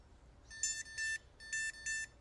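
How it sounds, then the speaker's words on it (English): A dog training shock collar remote beeping in two pairs of short, high electronic tones, close and clear, with a small gap between the pairs. "If I press this button and this makes a noise, a beep, that means this is connected to that number 1."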